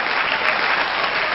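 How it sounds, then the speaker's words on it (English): Audience applause for magician Franz Harary at a live illusion show: a dense, steady wash of many hands clapping, loud and sustained throughout with no voices on top. "Put your hands together for Franz Harary"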